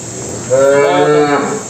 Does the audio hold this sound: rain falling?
no